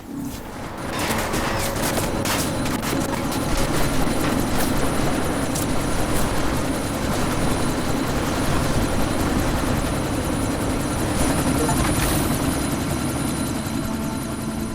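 A helicopter in the video game Deus Ex: Mankind Divided throbs loudly and continuously for about fifteen seconds, its rotor drone mixed with bursts of rapid gunfire.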